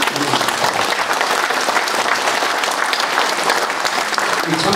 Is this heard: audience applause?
yes